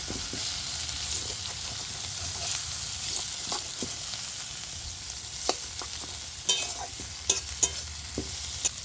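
Prawns and slit green chillies fry in a pan with a constant soft sizzle, while a spatula stirs and scrapes in sharp intermittent knocks that grow more frequent toward the end.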